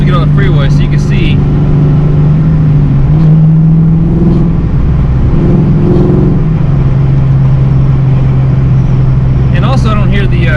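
A 1986 Mustang GT with an aluminum driveshaft cruises on the freeway, giving a loud, continuous engine and road rumble with slight shifts in pitch throughout.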